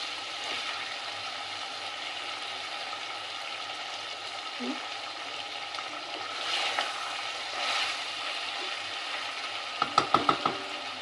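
Chicken fries in a pan for a restaurant-style chicken fry, with a steady close sizzle throughout, occasional stirring scrapes, and a few quick clicks near the end.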